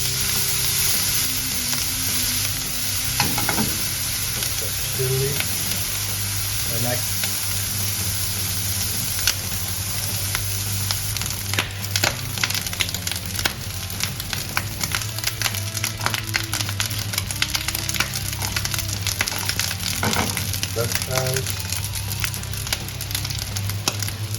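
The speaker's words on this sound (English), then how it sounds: "Into the hot pan with parsley, chili flakes, paprika and breadcrumbs. Saute until crispy" Breadcrumbs with parsley, chili flakes and paprika sizzling and crackling steadily in a hot pan, with occasional stirring scrapes and faint background hum, no talking.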